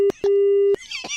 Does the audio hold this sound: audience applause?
no